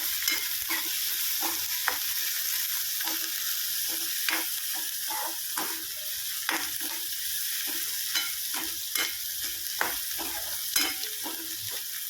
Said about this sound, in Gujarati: આપણે મરચાં અને કાંદા નાખી દીધા છે.